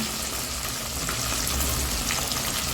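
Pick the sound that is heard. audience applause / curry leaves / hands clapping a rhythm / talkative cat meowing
curry leaves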